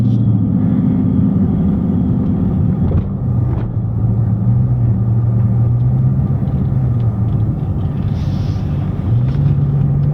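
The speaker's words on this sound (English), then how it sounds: "Ooh, at the speed bump. I didn't realize that. It's a legit speed bump." A Dodge Charger Scat Pack with about 50,000 miles rolls over a speed bump on a snowy road. Its deep engine rumble drones steadily inside the cabin, with a faint jolt and shifts in engine pitch.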